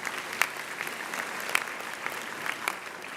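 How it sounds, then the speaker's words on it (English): Graduation ceremony audience applauding, a broad, moderately distant crowd clapping with a few sharper individual claps standing out, steady across the whole stretch with no talking. "So give yourself a wonderful hand of applause."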